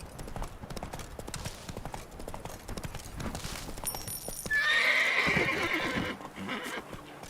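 A video game horse trots with steady, rapid clip-clop hoofbeats throughout, then lets out one loud, shrill neigh partway through before the hoofbeats carry on.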